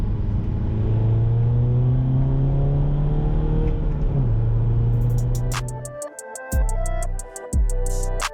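A BMW 320d with an M47 diesel engine and a 330d turbo fitted accelerates hard, its loud close engine note rising for about six seconds before cutting off into a rhythmic clicking pattern.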